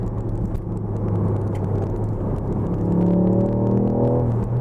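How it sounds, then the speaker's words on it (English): A Ford Puma ST mild-hybrid with a turbocharged 1-litre engine drives along, a steady low engine drone and road rumble filling the cabin, swelling slightly toward the end as the car pulls harder. "There's no way a 1 litre engine sounds like that."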